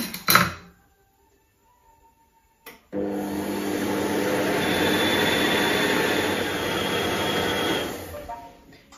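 A food processor runs at speed 4 with 180 g of caster sugar for a lemon meringue tart, giving a loud, steady motor whir that starts abruptly after a short clatter and holds evenly before cutting off.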